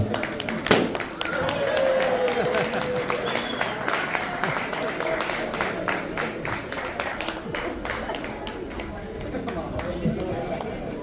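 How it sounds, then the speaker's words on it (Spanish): An audience claps steadily for about ten seconds at a Guarani language and culture celebration in San Juan Nepomuceno, a dense, even patter of hands that begins after a sharp burst, with voices and a faint tonal line running underneath. "Excelente, fuerte los aplausos."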